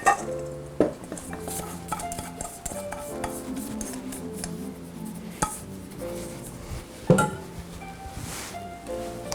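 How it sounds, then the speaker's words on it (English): Bread tossed with mashed garlic in a large bowl for a chicken Caesar salad, giving close, steady scraping and stirring with scattered clinks of utensils against the bowl. "So I'm just gonna toss this bread up with that garlic, mash that garlic into the bread."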